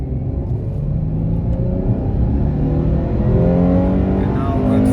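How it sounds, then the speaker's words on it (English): An 18-year-old Chrysler 300 with an engine stalling problem accelerates to highway speed, its engine droning steadily and rising in pitch as the car gains speed, with road rumble throughout and no talking. "right now I'm reaching an area where this is pretty much like highway speed, and I want to show you like it's accelerating"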